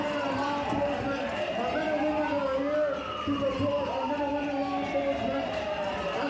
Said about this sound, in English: Those are not police sirens